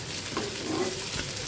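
Potatoes fry in oil in a pan, giving a steady, close sizzle with a faint stirring scrape over a brief moment and no voices.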